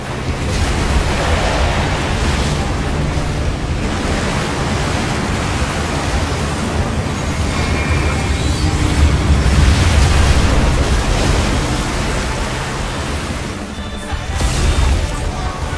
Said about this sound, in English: The brothers have triggered a fusion explosion!